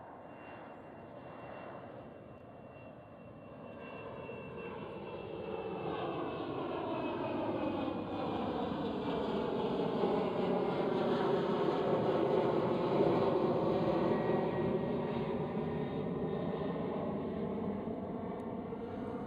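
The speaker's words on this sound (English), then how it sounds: "KLM City Hopper E190." KLM Cityhopper Embraer E190 jet taking off at Amsterdam Schiphol, its engine roar swelling from a distance to a loud, sustained rumble with sweeping whine tones as it passes and climbs away.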